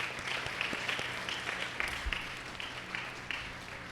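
A church congregation at a feast-day Mass applauds, sustained dense clapping from many hands filling the space at steady loudness, with no talk over it.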